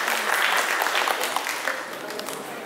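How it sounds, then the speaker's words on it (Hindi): A press meet crowd breaks into applause, a dense patter of many hands that is strongest at first and thins slightly toward the end, with no speech over it. "आज इनके सम्मान में तालियां।"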